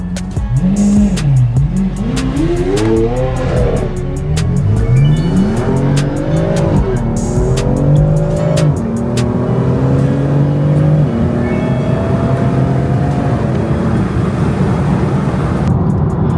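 Supercars including a Lamborghini accelerate hard while being chased in a BMW F82 M4, engines roaring and rising in pitch through repeated gear changes, loud and continuous with tire noise throughout.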